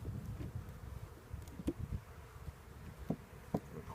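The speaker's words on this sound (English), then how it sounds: "These bees, there's lots of bees left in there, and they'll fill that out." Honey bees buzz around an open hive box in a queen bank setup, a steady close droning with brief louder passes as individual bees fly near, with no talking.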